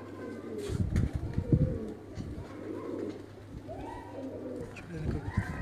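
A Sialkoti pigeon held in a hand gives soft throaty coos in short bursts close by, with someone talking around the calls.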